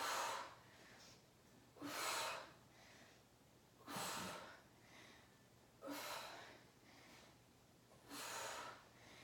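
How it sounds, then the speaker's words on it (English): Heavy breathing during a burpee workout: sharp exhaled puffs repeat about every two seconds in a steady rhythm, close to the microphone with quiet gaps between. "Make sure you're breathing here. Notice I exhale right there and really pull those abs in."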